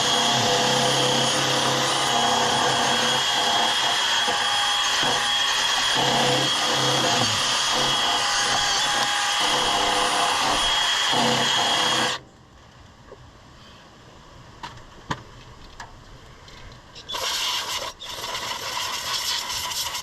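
A drill-driven wire wheel grinds rust off a seized brake on an Oliver 1650 tractor, a loud, steady, harsh whirring scrape for about twelve seconds. It cuts off to near quiet with scattered ticks, then gives a brief second burst.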